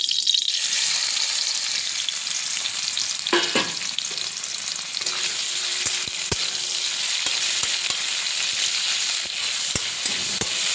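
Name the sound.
shrimp frying in mustard oil in a wok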